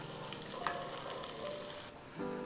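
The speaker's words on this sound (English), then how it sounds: "I want a nicer crisp. So I'm gonna double fry it." Shrimp double frying in hot oil for salt and pepper shrimp, a steady close sizzle and crackle with faint stirring, with no talk.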